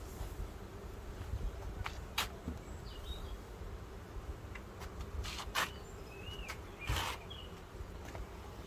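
Honeybees buzz faintly around an open hive during a first full inspection, a low continuous drone with a few brief louder passes and light handling noises.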